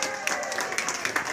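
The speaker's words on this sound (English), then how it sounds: "so give you guys a round of applause" Theatre audience at the Texas Theatre applauding, a brief burst of moderately faint, spread-out clapping with a few sharper individual claps.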